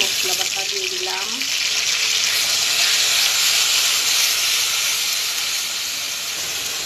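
Whole cumin, onion and spice paste frying in hot oil, a loud continuous hiss and sizzle filling the clip, with brief faint speech near the start.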